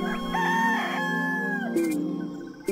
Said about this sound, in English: The rooster never stops crowing.